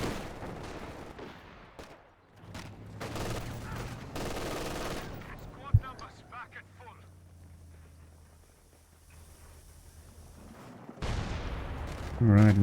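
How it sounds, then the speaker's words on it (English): An artillery barrage rumbles and booms in a multiplayer video game match, with scattered gunfire, heavy impacts and a sharp crack amid shifting battle noise, under a commentator's voice. "we have coordinated barrage coming in as well from the assault officer"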